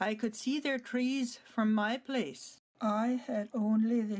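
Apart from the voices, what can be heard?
No everyday noise stands out behind the speech.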